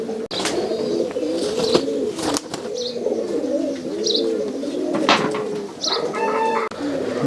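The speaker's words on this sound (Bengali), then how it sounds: "এটা হচ্ছে আপনার বাদামি কবুতর" Brown tournament pigeons at a pigeon farm in Rajshahi coo steadily in overlapping, throaty rolls, with several birds close by and some brief higher chirps mixed in.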